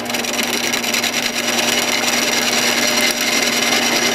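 Gouge cutting wood while roughing out the inside of a natural edged bowl on a lathe, a loud continuous rough shearing hiss with a steady motor hum beneath, no speech.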